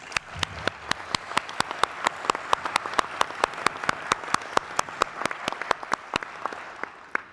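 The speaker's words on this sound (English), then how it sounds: "that alone receives a round of applause" At a city address, a small audience gives a round of applause, a sparse scattering of distinct individual hand claps with a few sharp close ones standing out over softer clapping further back.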